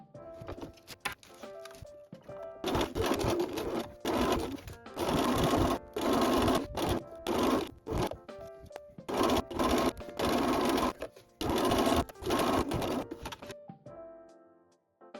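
A sewing machine stitches a tote bag seam with a 1 cm allowance, running in a string of loud, rapid bursts separated by short pauses before falling quiet at the end.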